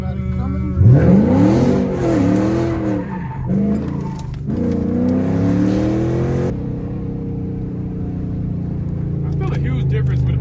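A Chrysler 300 with a 5.7 Hemi V8 revving hard while drifting, engine pitch rising and falling through repeated loud surges with tire squeal, close and continuous, with people talking over it.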